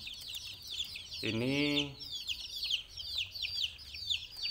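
Chickens in an Indonesian poultry farm coop cluck and chirp steadily throughout, with one louder, drawn-out squawking call partway through and a brief spoken word near the start.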